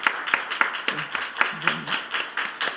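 Church congregation clapping in encouragement during a Wednesday prayer service, a rhythmic run of hand claps at roughly even beats, moderately loud, with a voice murmuring faintly underneath.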